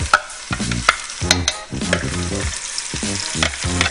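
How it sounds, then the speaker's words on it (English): Vegetables and seasoning paste sauté in bacon fat for rice and peas, a loud close sizzle with rhythmic scraping strokes of a spoon against the pan, several distinct stirs and no voices. "We're gonna let this saute along with the bacon"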